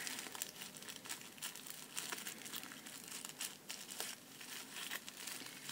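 Tissue paper crinkles softly and steadily as it is folded and wrapped into a paper flower, faint close rustling with no talking.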